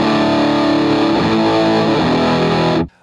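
Electric guitar played through a Dirty Boy Buzzy Boy fuzz pedal, a loud, thick sustained fuzzed chord ringing for nearly three seconds before cutting off abruptly, with no talking.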